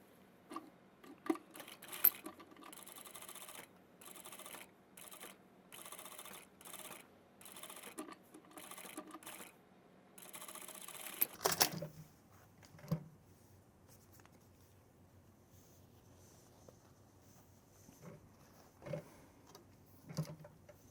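An industrial sewing machine stitching the front lining of a men's tailored jacket, heard as quiet, intermittent bursts of rapid mechanical ticking separated by short pauses, with faint handling sounds, low and close with no talking.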